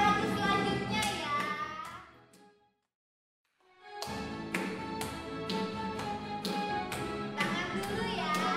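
Children clap and tap along to a worship song at a care center, a steady run of sharp hand claps over singing, broken by a brief silent pause before resuming loud and close.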